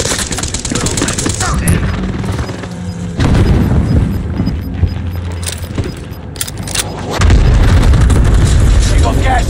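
Cluster strike in Call of Duty Warzone, with a dense run of booming explosions and rattling blasts rolling on continuously, loud and close, with voices over them.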